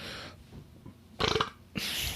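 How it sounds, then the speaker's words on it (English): A close, loud burp that rumbles briefly, followed by a burst of breathy noise, with no talking. "So maybe if you didn't burp in their ears, they would."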